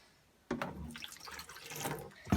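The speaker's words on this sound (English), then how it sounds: "And I have vinegar here. And when you pour that in," Vinegar poured into the litter box of a bunny cage, a steady splashing, trickling liquid sound close by that starts abruptly and runs continuously, with a brief louder knock at the end.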